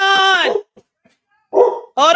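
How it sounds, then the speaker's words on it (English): A dog barks at the door in two sharp, close, loud barks separated by a brief quiet pause. "I gotta go check out who's at this door real quick, because my dog is about to go crazy."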